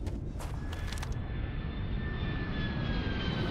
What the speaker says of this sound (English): Right around there, we hear the sonic boom, and there's a ship coming in.